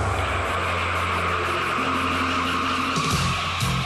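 A car brakes hard during a brake pad test, tires squealing and skidding in a loud, sustained screech over engine noise, with the pitch shifting near the end.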